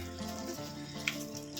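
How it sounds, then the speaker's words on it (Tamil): Tomato masala sautéing in a pan for a lunchbox recipe, a soft continuous sizzle and frying crackle with a faint stir or scrape partway through, quiet and steady with no talking. "நல்லா இதெல்லாம் ஒரு தடவை நல்லா வதக்கி விடுங்க"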